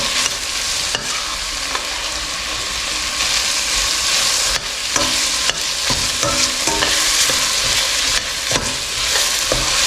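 Onions sizzle and fry in a pan for a roadside-style parotta salna. The hiss is loud and continuous, with a spoon or ladle clinking and scraping now and then as they are stirred.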